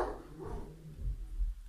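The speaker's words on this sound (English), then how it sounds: "Apologies for the dog barking." A dog barks indoors at someone at the door, a few muffled, fairly distant barks and low yelps in an irregular rhythm, with no voices.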